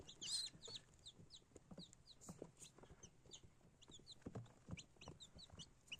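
Many small chicks peep and chirp continuously in high, rapid cheeps, close by and fairly quiet, with no talking.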